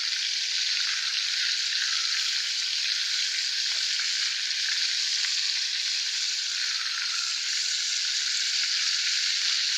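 Breaded chicken panné deep-frying in hot oil, a loud, even, continuous crackling sizzle that holds steady throughout with no talk.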